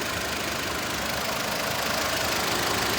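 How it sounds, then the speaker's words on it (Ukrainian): A Volkswagen Golf Plus 1.4 MPI engine idles steadily and evenly, a constant low mechanical hum with a faint rhythmic knock, no voices. "двигунчик працює дуже-дуже добре"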